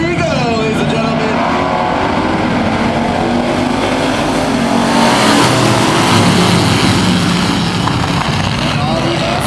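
Thunder Truck race trucks roar and accelerate hard on a dirt oval racing restart, a loud, dense wall of engine noise that rises as the pack pulls away, with an announcer talking over it.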